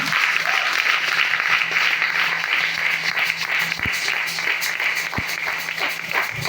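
A church congregation claps steadily and loudly together, a continuous dense wash of applause with a few scattered voices underneath.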